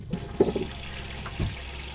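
Vegetables are washed under running water in a sink, with the tap flowing steadily beneath a few soft splashes and handling sounds close by.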